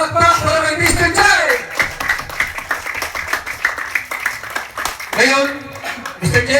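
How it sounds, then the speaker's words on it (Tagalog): Applause and clapping for Mr. J at a Filipino house blessing: a burst of hand claps in the middle, with voices talking before and after. "Isa pong palakpak para kay Mr."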